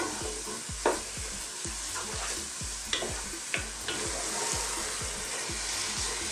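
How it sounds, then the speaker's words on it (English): Beef and spices frying on high heat are stirred in a pan. A steady sizzle runs throughout under regular scraping strokes, with soft low knocks from the utensil about every half second and no talking. "I'm going to cook this for about 3 to 4 minutes, perhaps on a high heat, stirring all the time"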